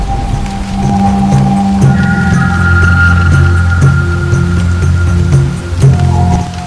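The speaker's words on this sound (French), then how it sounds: "La pluie rend la jungle encore plus belle." Steady rain drums on a car moving through the jungle of Banco National Park near Abidjan, Côte d'Ivoire, with a constant low engine hum beneath the patter throughout.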